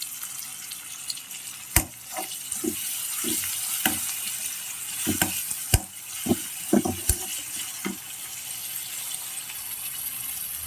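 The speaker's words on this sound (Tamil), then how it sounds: "இப்போது வெங்காயம் பச்சை மிளகா கருவேப்பிலாம் சேர்த்துட்டேன் இப்போது இதில் கிளறி விடணும்" Onion, green chilli and curry leaves being stirred in a pan for a goat blood fry, with a soft steady sizzle under irregular scraping clicks and knocks of the spoon against the pan.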